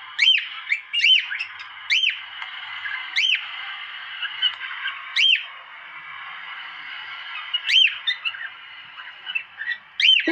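Caged cockatiels whistle repeatedly in short, bright rising calls with brief pauses between them, clear and fairly close over a faint steady background hiss.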